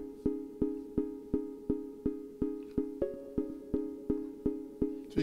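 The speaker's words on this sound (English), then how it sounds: "This sound that you're hearing is a hype synth coming out of the Akai." A hype synth from an Akai MPC pulses in an even, steady rhythm, each note plucked with a quick attack and fading, repeating about a dozen times at low volume.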